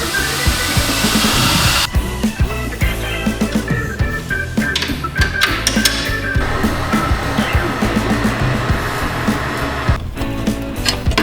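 Land Rover engine running steadily with a turbocharger spooling up, a loud continuous whooshing whine with a rising tone, close by and without talk.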